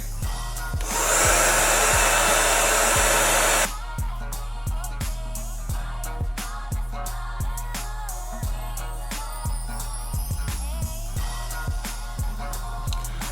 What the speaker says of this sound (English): I am going to take my blow dryer on warm and I'm gonna blow dryer down